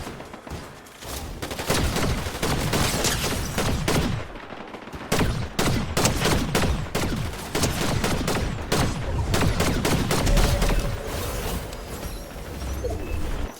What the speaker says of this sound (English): I really do like this Spire rifle. It's like, it's fully auto, but it's really accurate.